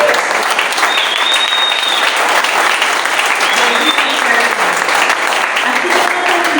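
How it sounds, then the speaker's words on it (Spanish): Church congregation applauding during a Spanish-language sermon, a steady, dense wash of clapping that fills the whole stretch at full loudness, with faint voices mixed in. "Y denle un fuerte aplauso."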